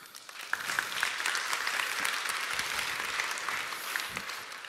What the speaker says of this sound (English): they deserve a round of applause, please